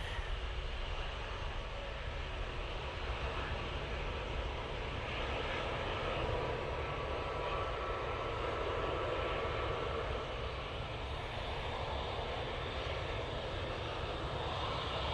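An Air Transat A321neo airliner taxiing at Manchester Airport, engines running, makes a steady, continuous jet whine and roar, moderately distant and unbroken throughout.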